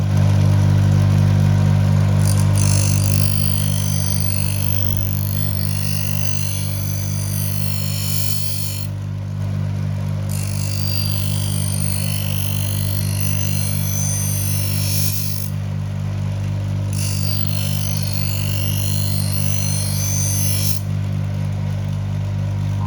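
Knife being sharpened and finished on a rubbery vulcanite grinding wheel, a loud, steady motor hum and whir running throughout, with three long passes of bright hissing grinding that each last several seconds.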